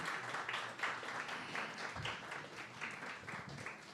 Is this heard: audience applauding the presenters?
yes